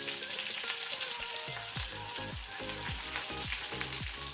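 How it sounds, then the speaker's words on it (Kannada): Crushed garlic and curry leaves frying in oil over a low flame, a steady close sizzle with a series of regular lower-pitched scraping strokes from stirring in the pan, and no one speaking. "ಸ್ವಲ್ಪ ಫ್ರೈ ಆಗಬೇಕು. ಬೆಳ್ಳುಳ್ಳಿ ಕಲರ್ ಚೇಂಜ್ ಆಗಬೇಕು."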